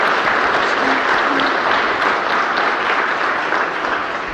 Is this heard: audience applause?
yes